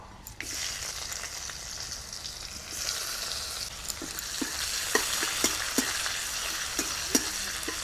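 Chopped onions sizzle steadily in hot oil over fried whole spices and dried red chilies, a soft continuous hiss with occasional small pops and light scrapes, no talking.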